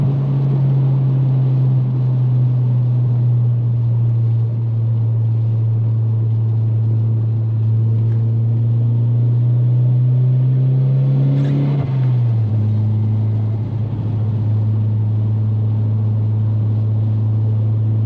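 A steady, loud low drone from the engine and exhaust fills the cabin of an MK4 VW Jetta wagon with a big-turbo 8V and PT15 turbo, swelling briefly as the revs rise and then settling back to a constant hum.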